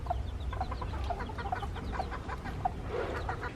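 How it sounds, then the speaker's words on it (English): A mother hen clucks to her newly hatched chicks on their first walk outdoors, with soft, regular clucks repeating every half second or so at moderate distance, faint peeps mixed in. "Follow Mama. Her first walk with her chickies."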